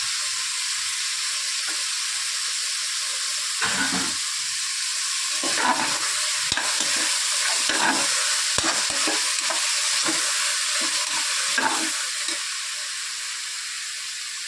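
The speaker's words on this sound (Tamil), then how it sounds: "அழகாக அதை போட்டு நல்லா வதக்கிக்கணும்" Finely chopped leaves sizzle steadily in a hot pan for vegetable biryani while a utensil stirs and scrapes in irregular bursts.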